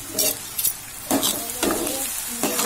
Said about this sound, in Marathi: दहा बारा कडीपत्त्याची पानं व आपण जी आलं लसूण पेस्ट बनवली होती ती तर हे छानपैकी आपण अगोदर भाजून घेऊया